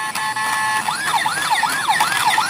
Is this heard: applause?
no